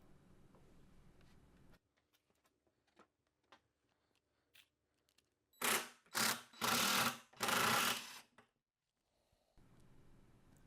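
Drill driving regular screws up into the wooden sides of a rolling storage cart, heard as four close, loud buzzing bursts of roughly half a second to a second each in a quiet workshop.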